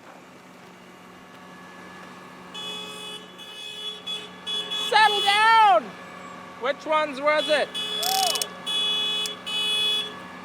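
A sewing machine runs in a long, steady whirring stitch, sewing diagonally across quilt squares, starting and stopping with brief quiet handling noises at either end.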